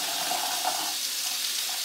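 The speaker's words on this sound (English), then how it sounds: "the first step in washing your hands is turning on the faucet" Water running from a faucet into a sink for handwashing, a steady hissing stream that continues evenly throughout, close and moderately loud.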